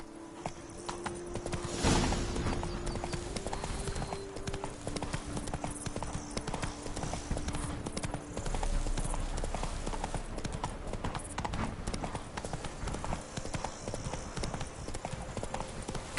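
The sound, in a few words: horse hooves galloping in The Witcher 3 video game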